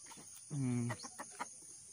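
Backyard fighting roosters give a short, loud, drawn-out call in the middle, framed by scattered softer clucks and small noises close by.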